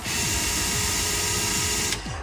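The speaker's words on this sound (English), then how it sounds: "We're gonna drill this in place." Power drill driving screws to fit a door knob, a close, steady whirring motor hum that stops abruptly near two seconds and is followed by a short tail.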